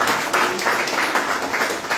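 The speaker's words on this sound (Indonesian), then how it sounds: "Boleh kasih tepuk tangan dulu." A church congregation applauds at a Sunday service, producing a short burst of dense, even clapping from many hands that carries on steadily for a couple of seconds.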